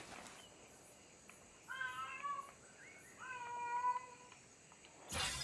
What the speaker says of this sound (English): I know how annoying the cat can be when she's like this